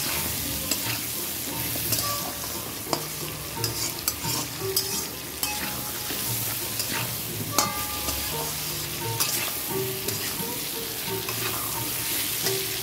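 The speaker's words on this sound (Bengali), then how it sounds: "আলুটা ভাজা হয়ে গেল, তারপর পেঁয়াজটাও একটু বেশি ভাজা হয়ে গেছে" Potatoes and onions with salt and turmeric fry in a pan, a constant close sizzle broken by repeated sharp scrapes and clinks of a spatula stirring.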